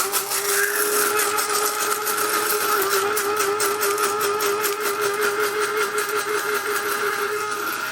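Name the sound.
electric spice grinder grinding spices for BBQ dry rub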